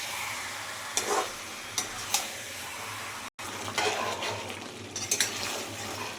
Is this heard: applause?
no